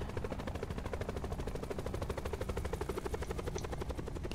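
A helicopter in the video game Black Ops 4 thumps steadily with fast, even rotor beats, a constant moderate drone with no talk.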